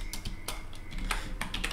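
Fast, light keystrokes on a computer keyboard during coding of a Unity login system, irregular clicks close to the microphone over a soft steady hum, with no talking.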